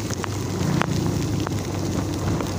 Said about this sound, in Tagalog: lumalakas na muli yung ulan